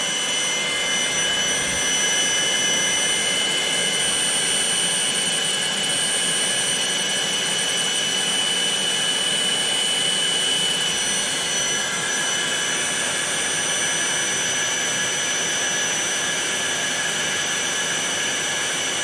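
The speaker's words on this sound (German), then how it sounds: "jetzt kann ich hier an dem Programm meinen Fräser schon mal darüber fahren" A self-built CNC milling machine for model-building runs steadily as its cutter travels over the workpiece, a continuous loud whining drone with high tonal hum that stays even for the whole stretch, no voices.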